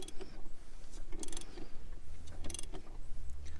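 A 2001 BMW 530i E39 M54 inline-six, out of the car for disassembly, turned over slowly by hand, giving a run of mechanical clicks, ratcheting and creaks with a low rumble growing beneath near the end.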